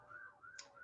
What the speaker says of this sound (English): I don't know if you can hear all the sirens.